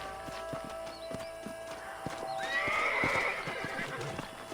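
Horses in the Red Dead Redemption video game whinny and clip-clop as riders dismount in a canyon, with a few hoof steps and a clear neigh at close range and no talk.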